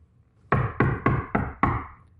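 Five firm knocks on wood come in a steady, evenly spaced series, close and distinct against a quiet background with no talk.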